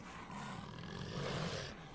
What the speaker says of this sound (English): Oh, that's a pseudo dog.